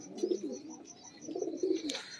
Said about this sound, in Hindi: सनी भाई के पास लाल आंख वाले जो मैरो वाले कबूतर है ना, बड़े अच्छे पड़े हुए